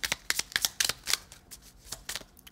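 Oracle cards shuffled by hand in a quick run of crisp riffling flicks and soft slaps, close and alone, ending in a few sparser taps.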